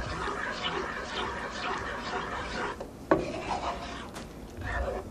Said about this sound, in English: Stir that in well.